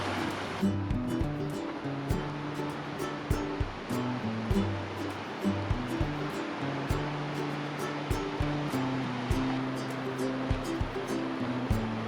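A creek rushes steadily beneath a hiking trail bridge in a Northern California meadow, with a constant broad wash of flowing water and a few faint clicks or footfalls on top, and no talk.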